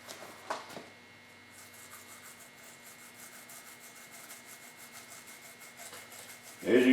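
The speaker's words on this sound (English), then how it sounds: "I'm going to be using just an old toothbrush and these green scrub pads" An old toothbrush and a green scrub pad scrub a rubber boot with rapid, quiet scratching strokes, faint and rhythmic, opening with a couple of knocks and ending in a louder burst.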